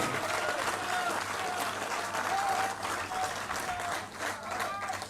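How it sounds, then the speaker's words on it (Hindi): An audience at a political rally claps loudly to welcome Scindia, a dense continuous burst of applause with a voice over the loudspeaker heard faintly through it. "एक बार तालियां बजा के जोरदार स्वागत कीजिए सिंधिया जी का"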